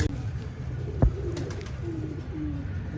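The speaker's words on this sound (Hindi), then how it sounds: "ये कबूतर है जी वो।" A pigeon kept by a pigeon fancier coos softly and low in a quiet room, with a brief thump partway through.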